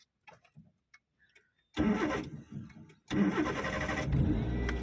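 A car engine cranks and catches during a driving lesson, starting with a loud burst that settles into a steady idle, then fires up again with a second, sustained run after a short pause.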